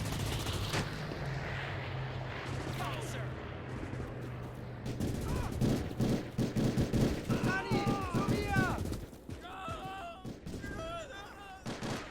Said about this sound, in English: Keep shooting, boys.